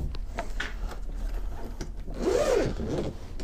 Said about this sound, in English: do the zips around the side here, right to the bottom